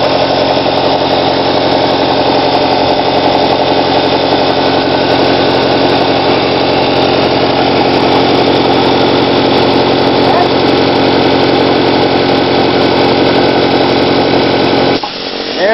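A milk can maple sap releaser system runs while dumping sap, giving a loud, steady mechanical drone that holds unchanged for about fifteen seconds before a brief dip at the end.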